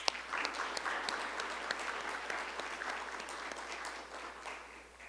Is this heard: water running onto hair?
no